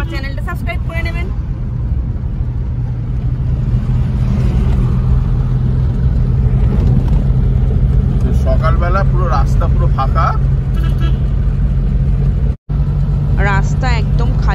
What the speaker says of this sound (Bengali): রাস্তা একদম খালি ট্যাক্সি পুরো গোগো করে দৌড়চ্ছে